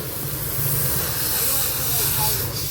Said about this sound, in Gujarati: આપણું ટ્રેક્ટર ધોવાય છે.